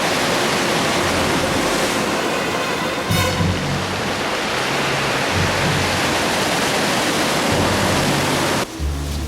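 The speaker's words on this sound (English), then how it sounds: "The lull of the waves would rejuvenate and energize us to cope with day 5." Ocean waves breaking on the rugged Otter Trail coast, a continuous loud wash of surf with heavier low thuds as sets roll in, steady and close throughout.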